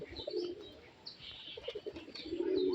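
Several pet pigeons kept at a home loft coo softly in low, rounded phrases close by, with faint chirps and a little wing movement in a quiet setting.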